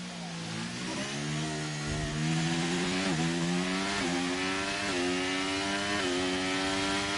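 A race car engine in a sim racing game at Abu Dhabi climbs through revs in repeated rising whines, each upshift briefly dropping the pitch before it surges again, loud and close.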